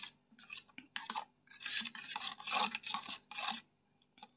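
A spoon stirs turmeric and coriander powder in a bowl for drumstick paratha, making rhythmic bursts of close scraping and rubbing separated by short pauses, with no talking.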